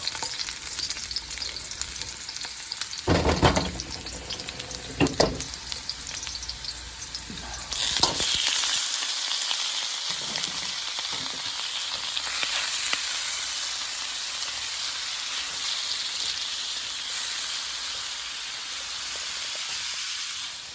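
Food fries hard in hot oil for a stir fry, a loud continuous sizzle and hiss close up, with a couple of stirring bursts early before the sizzle swells and holds steady.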